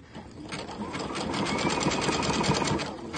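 Sewing machine stitching the lining of a suit, a close, continuous rapid mechanical whirr that picks up speed and holds steady.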